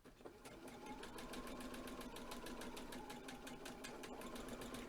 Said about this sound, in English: stitch along the short edge there, reducing my stitch length